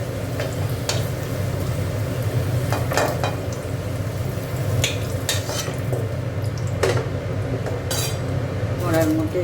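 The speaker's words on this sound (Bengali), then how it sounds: "আলুটা তুলে নিচ্ছি।" A metal utensil scrapes and clinks in a pan as fried potatoes are lifted out, several sharp knocks over a steady background sizzle of oil, with a voice briefly heard.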